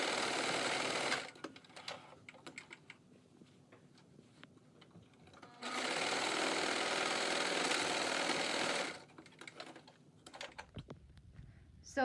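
A sewing machine runs in two steady bursts, stitching a seam on a fabric face mask, with quiet gaps and faint handling noises between the runs.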